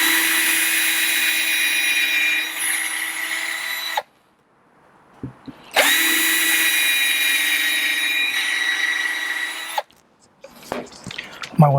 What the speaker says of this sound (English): And we're going to do pilot holes.